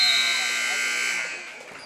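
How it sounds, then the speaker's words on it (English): Buzzer at a girls' high school basketball game sounding to end the quarter, one loud sustained electronic tone near the start that fades out over about a second and a half. "Buzzer goes off into the third quarter."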